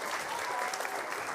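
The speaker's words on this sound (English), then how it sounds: "Can you, yeah, a round of applause for that." An audience gives a short round of applause at a children's laureate launch event. The clapping is soft, dense and steady throughout the brief moment.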